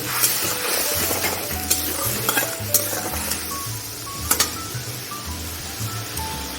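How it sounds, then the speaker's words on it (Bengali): Eggplant frying in a pan with salt and turmeric, a steady close sizzle under repeated stirring, with sharp metallic clinks and scrapes of a spatula against the pan and no talk. "পরিমাণ মতো নুন হলুদ দিয়ে একটু নেড়ে নেব"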